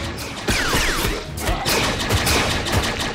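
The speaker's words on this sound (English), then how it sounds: "The genetic repair guns aren't working." Sci-fi energy guns fire in a Ben 10 cartoon on the Spidermonkey home planet, a dense, continuous barrage of zapping blasts and crackling impacts with descending laser sweeps.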